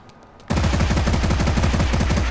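Rapid automatic gunfire from a gun in the Dreams video game on PS4 bursts in suddenly and continues as a fast, even stream of loud shots.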